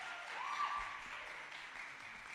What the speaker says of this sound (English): A warm round of applause for Mr.